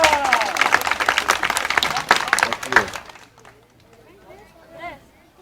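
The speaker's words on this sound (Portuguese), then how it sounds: "Uma salva de palmas para o José Fernando e para a Rebeca!" A crowd claps for José Fernando and Rebeca in a loud, dense burst of many hands with cheering voices mixed in, then the applause cuts off and quieter talk follows.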